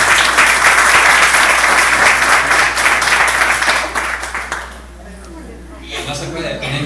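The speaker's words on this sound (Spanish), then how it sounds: "Un aplauso a Rogelia, por favor" Audience applause at a live product demonstration in Veracruz, dense and loud clapping for several seconds that fades out, after which quieter room sound and faint voices follow.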